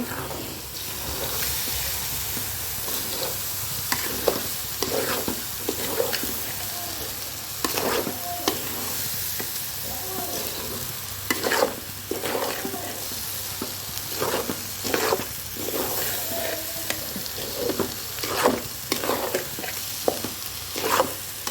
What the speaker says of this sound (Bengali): কিছুক্ষণ এভাবে ভেজে নেব লেড়ে চেড়ে ভালো করে মিশিয়ে ভাজিয়ে নেব